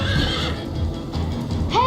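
A horse in Minecraft Story Mode gives a loud whinny that rises at the end of the clip, over galloping hoof clatter and background game sounds.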